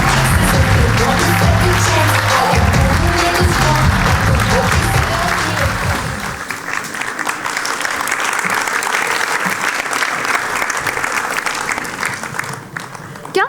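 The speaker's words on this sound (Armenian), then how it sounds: "Դիմավորեք բարձր ծափարություններով" Loud, dense audience applause on a TV show set, a thick roar of clapping with music and voices mixed in at first, then continuing as sustained clapping and crowd noise before fading near the end.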